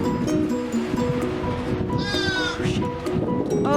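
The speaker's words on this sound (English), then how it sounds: "The little baby lamb that was born today is with the 4 donkeys." A newborn lamb bleats repeatedly on a farm near four donkeys, several close, wavering cries over a steady outdoor background, with one higher, sharper bleat standing out midway.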